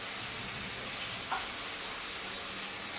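Potatoes seasoned with turmeric and salt frying in oil, a steady, even broadband sizzle and crackle filling the whole stretch at moderate level, with one brief brighter pop partway through.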